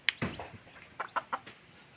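A chicken gives several short, soft clucks in an irregular pattern, fairly quiet against faint background noise.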